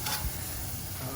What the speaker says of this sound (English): Now it's time to sear. Got the charcoal already, nice and hot.